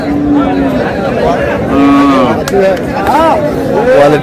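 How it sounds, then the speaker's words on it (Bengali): Sahiwal cows and calves at a cattle market in Raniganj haat moo repeatedly in long, drawn-out calls, several animals overlapping, over a steady murmur of crowd chatter. "কেমন দামে শাহিওয়াল জাতের গাভী বাছুর গরু বাছুর কেনা হচ্ছে আমরা সে উত্তর দিব"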